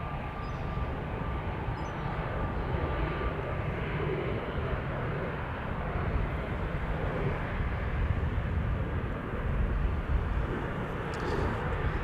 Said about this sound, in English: This is an EasyJet A319 to Newcastle, flight 27859